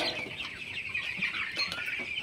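Chickens cluck softly and continuously near a weighing scale on a poultry farm, a low steady fowl chatter with no talking.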